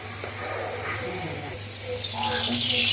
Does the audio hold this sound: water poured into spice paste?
yes